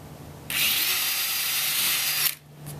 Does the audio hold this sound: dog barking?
no